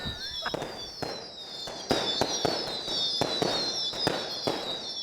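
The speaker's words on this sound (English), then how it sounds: "That was just a test run of all the fireworks." Fireworks set off as a test run beside a castle in Minturno, Italy, ahead of a village feast: a rapid string of sharp cracking bangs over whistling, hissing rockets, loud and echoing.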